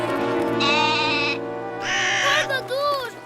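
A cartoon goat gives drawn-out wavering bleats in two or three loud bursts over background music in an animated children's show.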